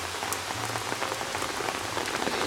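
Rain falls beside the Roman East Gate and round tower in Plovdiv, Bulgaria, a close, steady patter of drops striking stone and pavement, with no voices.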